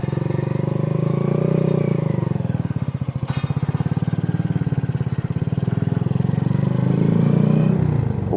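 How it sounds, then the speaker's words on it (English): A motorcycle engine revs hard while climbing a hill in a canyon, loud and close, its pitch rising and falling with a rapid pulsing rhythm in the middle and a sharp clatter partway through. "In this canyon, my engine sounds pretty stinking loud."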